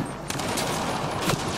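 Loud, dense gunfire in the video game Mass Effect Andromeda, a pistol among sustained shooting and game combat noise filling a brief moment.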